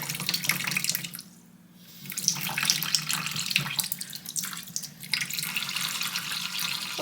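Water from a tap runs into a sink while a makeup brush is washed, a steady close splashing that dips briefly and then resumes, with no voices.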